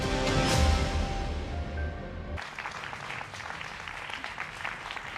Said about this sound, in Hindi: आज जोरदार तालियां, हाथ खड़े कर जोरदार तालियां इस विशेष कार्यक्रम के लिए